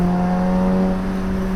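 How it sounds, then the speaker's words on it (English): A car engine drones steadily with a deep, rumbling exhaust note, close and loud, holding a constant pitch with no voices. "that exhaust sounds good though"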